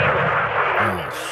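A missile strike in Call of Duty Modern Warfare 2 lands as a loud, sustained explosive roar and rumble that rolls on without a break, followed by a descending whoosh of debris.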